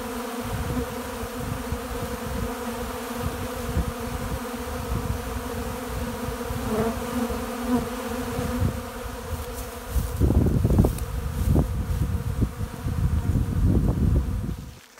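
Honey bees swarm an open dry feeder outdoors, a dense steady buzz of many wings holding close and loud throughout, with louder rustling bursts near the end.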